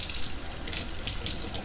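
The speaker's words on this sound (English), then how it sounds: "So go ahead and turn on some warm water." Warm water runs steadily from a sink faucet, used to rinse a disc golf disc before dyeing; a close, even splashing rush with no talk.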